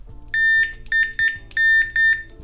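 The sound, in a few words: multimeter continuity beep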